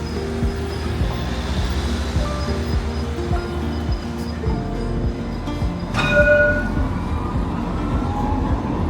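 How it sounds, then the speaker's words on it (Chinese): A tram running through a narrow street in Istanbul's old city, with a heavy rumble and rattling wheels under busy street noise, a sharp metallic squeal or horn partway through. "还有穿城而过的电车。"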